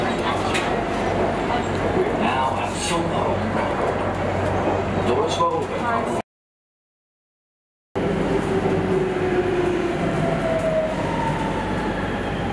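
Shanghai metro train running toward Pudong International Airport, a loud continuous rumble of wheels and carriage noise that cuts off briefly and then resumes, with voices faintly audible in the car.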